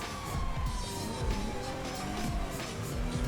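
Police sirens wail during a video game car chase, the tone sliding downward under a rumbling engine and clattering road noise, at moderate volume with no talking.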